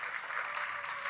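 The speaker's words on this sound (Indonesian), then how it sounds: "Tepuk tangannya boleh yang paling meriah buat Yesus Tuhan kita." A church congregation claps for Jesus during a sermon, a dense, steady wash of applause holding at even loudness throughout.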